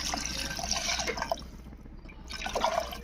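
Tamarind water is poured into a pot for pepper rasam, giving a short close splashing pour that pauses briefly and then resumes, with no speech.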